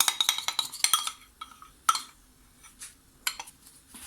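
A utensil clinks and scrapes against a bowl while melted chocolate is mixed into cake batter: quick bursts of close metallic taps, then scattered strokes with short pauses.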